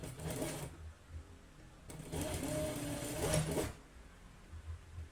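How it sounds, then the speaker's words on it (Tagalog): A sewing machine stitches jersey armhole pieces together, running in two quiet whirring bursts with a pause between them. "maaari po tayo magtahi ng pansamantala sa pantayan ng design para matiyak ang pantayan nito"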